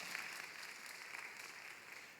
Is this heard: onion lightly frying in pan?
no